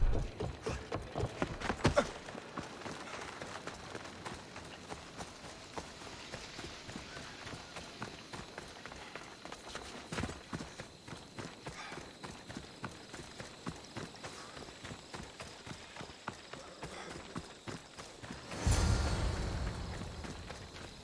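Horses gallop in an Assassin's Creed Odyssey race, with a steady, rapid drumming of hooves on the ground throughout and a louder burst of hoofbeats near the end.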